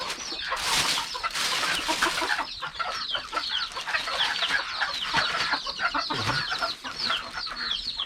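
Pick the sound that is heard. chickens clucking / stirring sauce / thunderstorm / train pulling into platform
chickens clucking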